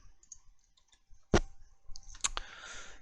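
Sharp computer mouse clicks while a ship part is placed in a space-station mapping program, one loud click near the middle and a quick cluster of clicks toward the end over a quiet background.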